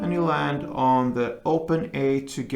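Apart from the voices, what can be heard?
No everyday noises stand out.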